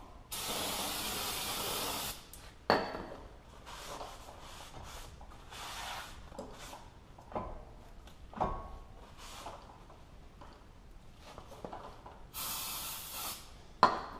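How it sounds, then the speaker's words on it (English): Several hissing bursts of an aerosol brake cleaner spray during a brake pad replacement, a long one at the start and another near the end, with quiet rubbing and clicks between. "spray it down with a good helping of brake cleaner and then wipe it off"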